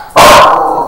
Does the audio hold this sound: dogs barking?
yes